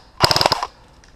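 Rapid burst of an airsoft gun with a Lonix motor firing on an indoor CQB field, a single loud cycle of about seven quick shots lasting half a second.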